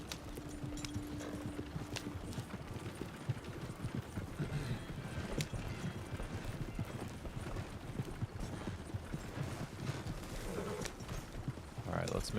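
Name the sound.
horses' hooves clip-clopping in a video game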